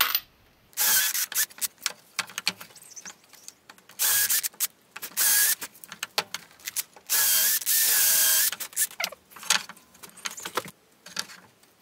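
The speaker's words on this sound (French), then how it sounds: "je vais venir sécuriser ça avec ici, je pense on va mettre 4 vis" A drill drives four screws into a half-lap joint of a wooden armchair, giving several loud whirring bursts of about a second each, separated by clicks, ratcheting and quiet pauses, close by with no speech.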